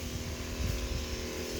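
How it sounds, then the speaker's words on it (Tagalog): A motorized crop sprayer, applying its first spray of Booster 76 to three-week-old string beans and okra, drones with a steady, close engine roar and a low rumble throughout, with no speech. "Napakaganda ng pagkakabuga ng sprayer natin na yan. Lakas pa."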